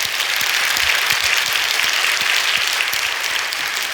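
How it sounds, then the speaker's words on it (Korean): A church congregation applauding together, a dense steady wash of many hands clapping that holds at full strength throughout, loud and without talk. "하나님께 박수합시다"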